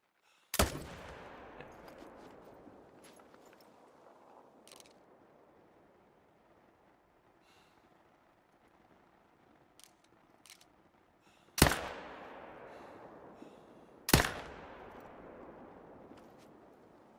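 Hunting rifle shots ring out in theHunter: Call of the Wild: one loud crack with a long rolling echo, then quiet outdoor ambience, and two more sharp reports near the end, each trailing off into reverberation.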